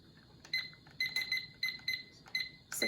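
Kitchen oven timer being set, giving a string of short, bright electronic beeps in irregular pairs, close and fairly clear over quiet room noise, a slightly different chirp at the end.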